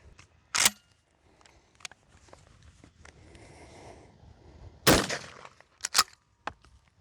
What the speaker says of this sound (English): This time I'm gonna see if I can't squeeze out a headshot with this unzeroed red dot.